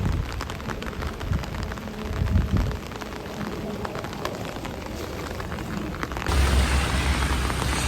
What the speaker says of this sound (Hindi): बारिश रवाना हुआ है और हमारी छतरी हमें महफूज रखे हुए है।